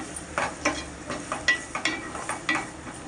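Three onions with salt frying in a pan for a prawn and capsicum curry, a soft steady sizzle broken by a series of scraping stirs at an irregular rhythm, heard close with no talk.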